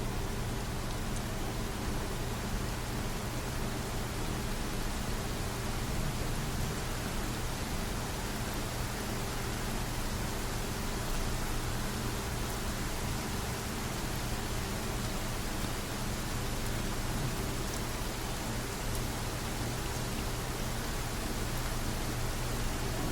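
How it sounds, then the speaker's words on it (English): Steady rain falls in Jusant, a dense, even hiss of drops that holds unbroken, with no voices over it. "It's raining."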